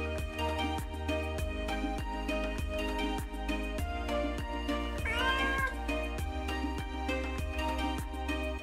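A cat meows once, a short wavering call midway through, in a cat rescue bar in Bratislava, heard over steady rhythmic background music.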